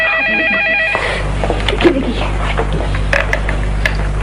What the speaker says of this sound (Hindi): चलिए फोन ठहरो, कहीं उस गुलेरी की फोन ना हो।